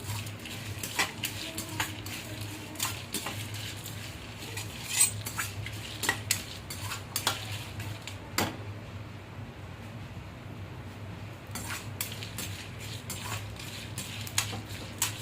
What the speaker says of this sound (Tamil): வெறும் வடச்சட்டில் எண்ணெய் ஊற்றாமல் வறுக்கணும்